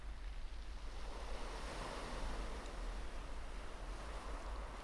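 Ocean swell surges against coastal rocks in a continuous roar of surf, with wind buffeting the microphone and a deep, rumbling low end throughout.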